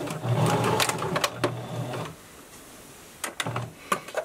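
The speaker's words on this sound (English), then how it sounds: "I'm going to sew that at 3/8 of an inch" A sewing machine stitches a fleece scarf seam in short bursts, a close rapid mechanical chatter that stops, pauses quietly, then restarts for a few more stitches.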